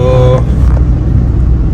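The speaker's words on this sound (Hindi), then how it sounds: "खैर अब ट्रैफिक धीरे धीरे ईज आउट हो रहा है" Road traffic on a highway leaving the NCR near Delhi, with car engines and tyre noise forming a steady, loud rumble close by for a short stretch, no talk.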